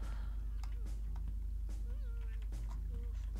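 A cat in The Sims 2 video game meows in several short, wavering calls over steady game music and background noise, with a person talking faintly at times.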